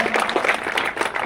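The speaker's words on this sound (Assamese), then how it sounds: "এবাৰে হাত চাপৰি তেখেতক" Applause greets an honoured student at a school felicitation: a short burst of many hands clapping, close and continuous for about a second.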